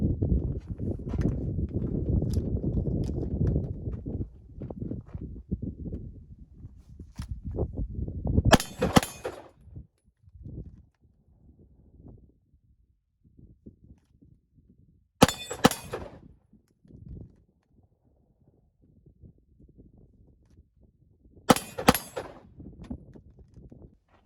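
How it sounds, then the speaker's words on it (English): Springfield Hellcat pistol with a red-dot sight fires three loud double-tap pairs at the range, each pair of sharp cracks separated by several seconds of quieter shuffling and handling noise. "we're going to try some double taps and see how it is to acquire the dot after shooting"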